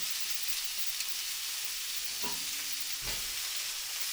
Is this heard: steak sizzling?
yes